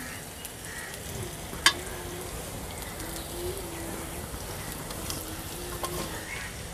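Raw plantain pieces fry in a pan with roasted spices and oil for vazhakkai varuval. A steady close sizzle carries on throughout, with a sharp clink near the start and faint chirps in the background.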